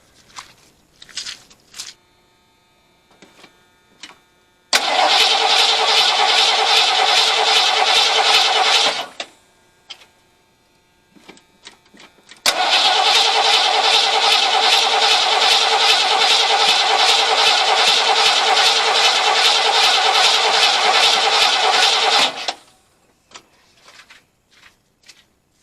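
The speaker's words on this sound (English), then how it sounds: "Everything else should be kosher, ready to start up." A 1980 Ford F100 pickup engine cranks, then roars to life in two long, loud sustained runs, each stopping abruptly, with scattered clicks and clanks before, between and after.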